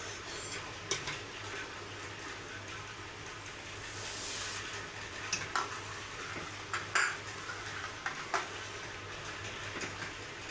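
A spoon stirs sugar into simmering milk in a metal pot while making vermicelli payesh, a steady background hum broken by several sharp clinks and scrapes of utensil against pot in the second half, with no talking.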